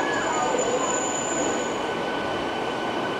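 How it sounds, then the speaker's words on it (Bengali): A local train pulling out of Digha station, a close steady rumble with thin high wheel squeals drawn out over it, no clear talk. "দীঘা ছেড়ে বেরিয়ে যাচ্ছে আমাদের ট্রেন"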